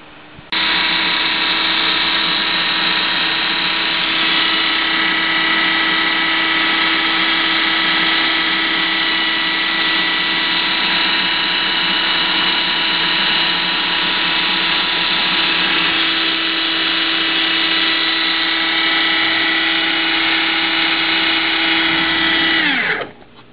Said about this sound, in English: we're going to take it to the food processor where we will make this a